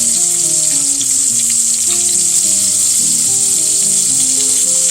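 Pork chops sizzling in a pan for a Southern dinner, a loud continuous frying hiss close up, with a faint steady tonal hum running underneath.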